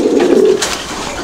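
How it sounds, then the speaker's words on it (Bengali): King Beauty Danish racer pigeons cooing, a single low, soft close coo lasting about half a second over faint background noise. "এটা মাদি কবুতরটা এটা হচ্ছে নর কবুতরটা"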